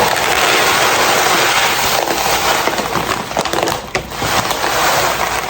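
Dry pumice stones poured from a bag for a pond setup make a loud, continuous gritty rattle and crunch with a dense, unbroken wash of clattering grains and no talking.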